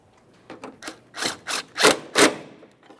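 Ratcheting bursts come as a mounting bolt is snugged up on a 2008-2017 Mitsubishi Lancer 2.4L: a series of short, close clicking pulls that grow louder and end in two strong strokes.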